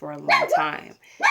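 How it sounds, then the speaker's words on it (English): A pet dog barks and yips close by in one short burst, overlapping a woman's speech indoors. "Sorry about my dog."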